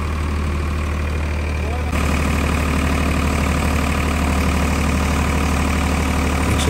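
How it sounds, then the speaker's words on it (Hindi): Escorts 35 kVA generator engine running under full load, a steady, loud, close diesel drone with constant low rumble and no pauses. "बिल्कुल भी धुआं नहीं है, वो साफ इंजन चल रहा है दोस्तों"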